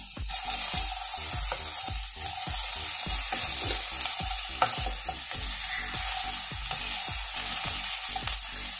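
Chopped capsicum is stir-fried in a pan over low heat for restaurant-style chilli chapathi, with a constant sizzle and regular scraping strokes of a spatula that repeat about twice a second.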